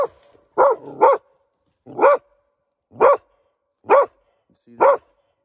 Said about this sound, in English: I have a dog that has found its way into my live trap.